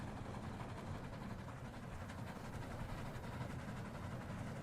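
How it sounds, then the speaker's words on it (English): Quiet, even train rumble from the video game Steal A Brainrot, a low continuous rolling drone with soft rattling texture that holds steady throughout, with no voices over it. "And this is what the train sounds like."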